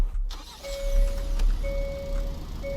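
An electric car starts up in the Greenville video game with a steady synthetic chime tone that repeats over a low, continuous engine-like hum.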